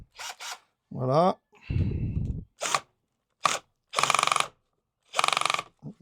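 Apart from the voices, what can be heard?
unscrewing and adjusting a screw on Navimow i210 robot mower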